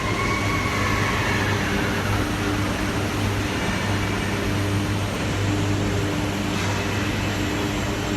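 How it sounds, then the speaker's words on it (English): Converter at a steel plant, with the doghouse closing and top oxygen blowing starting: a dense, loud, continuous industrial roar with a steady low hum underneath, unbroken and without speech. "Now this is called doghouse is going to get closed, and the blowing is going to start from top."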